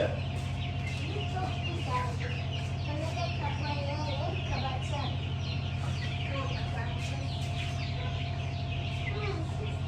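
Constant busy chirping and cheeping of many newly hatched chicks, continuous and close, over a steady low hum of an incubator.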